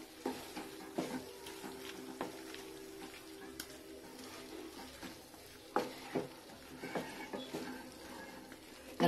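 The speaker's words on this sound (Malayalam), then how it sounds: "വെളിച്ചെണ്ണ ഒഴിച്ച് ഒന്ന് ഇളക്കിയിട്ട് മൂടി വെക്കുക" Avial being stirred after coconut oil is poured in, soft sizzling beneath irregular clinks and scrapes of a spoon against the pot, moderately quiet and close.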